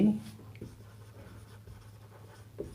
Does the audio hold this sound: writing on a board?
yes